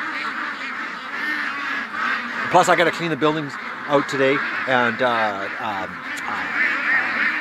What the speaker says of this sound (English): let's let the ducks out so they can enjoy the storm